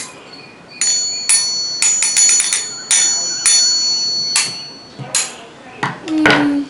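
An electric calling bell on a workbench rings its gong in several short bursts and one longer one, a bright metallic clang close by, with brief pauses and a low hum at the end.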